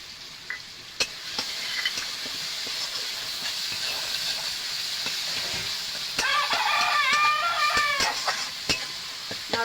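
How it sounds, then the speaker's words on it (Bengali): Ghugni spices and ginger paste frying in hot oil, giving a steady close sizzle and hiss with occasional sharp pops and spoon scrapes from stirring, growing louder and bubblier near the end, with no talking. "নাড়াচাড়া করে ভেজে নেব।"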